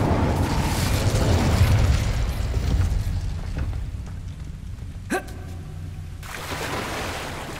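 An Incendio fire spell cast in the Hogwarts Legacy video game, a loud roaring burst that fades over several seconds, with a sharp crack partway through and a return of ambient rumble.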